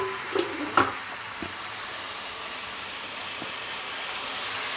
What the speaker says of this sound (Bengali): যাতে মশলাটা একটু ভাজা হয়ে যায়।